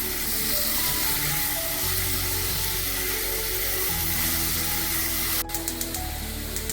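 Chopped garlic, ginger and green chili fry in hot oil in a kadhai, giving a loud, continuous close sizzle with a low hum beneath it, unbroken and without speech.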